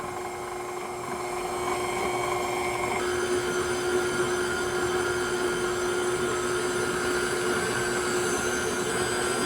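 An electric stand mixer with a paddle stirs cake-mix donut batter, running with a steady, loud whirring hum throughout.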